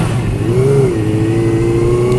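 A 1999 Suzuki GSX-R 750 SRAD motorcycle engine revs hard close by, a loud steady buzzing tone rising and settling at high pitch for a couple of seconds.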